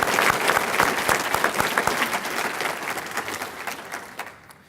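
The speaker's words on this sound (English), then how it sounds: "And I'd like to give them a big round of applause again." An audience at a mayor's state of the city address claps loudly and densely for several seconds, the applause thinning and fading out toward the end.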